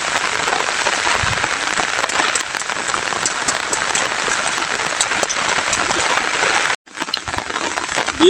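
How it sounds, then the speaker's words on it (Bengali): Heavy rain pours steadily at a cattle farm, a dense, loud, unbroken roar of drops that cuts out for a moment near the end and then resumes. "দেখেন বৃষ্টি আকাশে"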